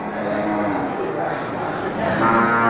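Cattle lowing at a busy livestock market in Geurugok, a crowd of fattening-category cows giving overlapping moos that swell toward the end, mixed with nearby people talking.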